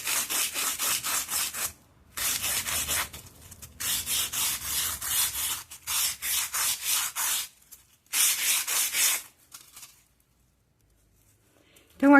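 A fake fruit shape is sanded round by hand, giving repeated bursts of rhythmic rasping strokes that pause now and then. A short silence comes near the end.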